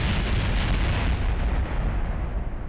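A spacecraft blows up in Kerbal Space Program, a loud, dense, roaring blast of game explosion noise that fills the whole moment and only slightly tapers toward the end.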